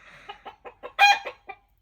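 A chicken under a farmhouse, right below the bedroom, gives a run of about seven rhythmic clucks that build to one louder squawk, close and clear with no talk.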